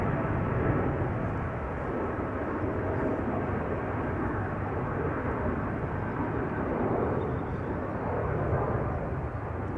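A Boeing 787-10 Dreamliner, registration PH-BKF, rumbles steadily at Schiphol's Polderbaan runway, a broad, continuous jet roar that holds at a constant level without pauses.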